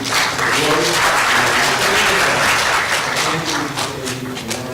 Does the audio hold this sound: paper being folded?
no